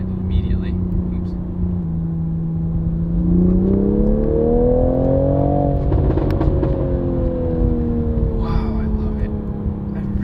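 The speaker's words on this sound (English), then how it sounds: "Here's just all-out acceleration. Rubber banding behind the guy in front of me. Wow, it picks it up really quick. So I redlined it immediately." A Toyota Supra with an automatic transmission revs hard toward redline under full acceleration in a race, its engine note climbing steadily in pitch, then dipping briefly and pulling again, loud and continuous throughout.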